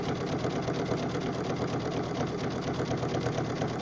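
A sewing machine stitching fabric strips for a jelly roll rug runs steadily and close, a fast even whirring clatter of the needle that continues without pause throughout.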